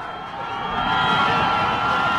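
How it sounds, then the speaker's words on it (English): Crowd noise at a high school football game swells into a steady, broad roar that builds and holds through the clip, with no distinct voices standing out. "can hear the crowd getting up for this particular play at the 43-yard line"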